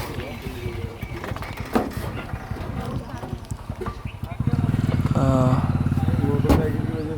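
People talk outdoors on a tiger safari in Ranthambore, then a motorcycle engine starts up nearby and idles with a steady, throbbing rumble under their voices.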